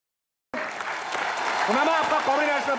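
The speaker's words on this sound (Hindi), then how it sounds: "जोरदार तालियों से स्वागत कीजिए द वेरी टैलेंटेड" Studio audience applause and cheering welcoming a guest onto the stage of a Hindi comedy talk show, bursting in suddenly after a brief silence and swelling steadily, with a voice calling out over the clapping near the end.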